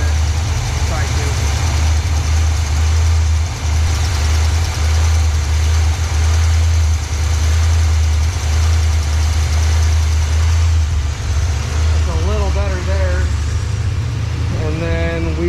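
A 1986 Pontiac Trans Am engine idles loud and steady after a fast idle adjustment, a constant low rumble that holds throughout, with a faint voice near the end.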